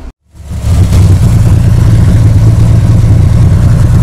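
A first-series Chevrolet Opala with a six-cylinder engine idles loudly and steadily up close, with a deep low rumble starting after a brief silent gap and continuing evenly to the end.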